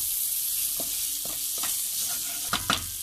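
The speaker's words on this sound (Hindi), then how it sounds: "मटर हम एक मिनट के लिए रोस्ट करेंगे अच्छी तरह" Green peas roasting in a spice masala in a pan for a turnip bharta, a steady soft sizzle with a few scraping stirs of a spoon, the last two louder near the end.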